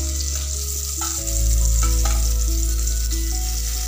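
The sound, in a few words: fish frying in oil in a wok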